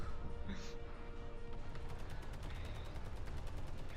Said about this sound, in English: Why explosions? Are we under attack? Oh yes, we are under attack.